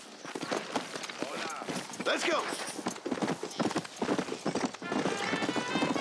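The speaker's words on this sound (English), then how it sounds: "Get on your horse, amigo." Horse hooves clip-clop in the video game Red Dead Redemption, a quick rhythmic beat of a ridden horse running under game dialogue, with voices talking over the hoofbeats.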